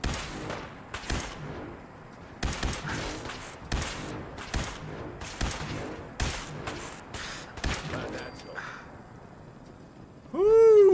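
Gunshots in the video game Fallout 4, a series of sharp, loud individual shots fired at irregular intervals, followed by a burst of warbling game sound at the end.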